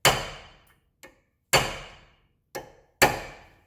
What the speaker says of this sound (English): twist the nut into a position where you can smash it with a punch, staking it, ensuring that it won't come off